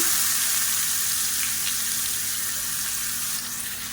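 Chopped onions fry with mustard seeds and curry leaves in hot oil for a kulambu, giving a steady, loud sizzle that fades slightly toward the end, with no talking.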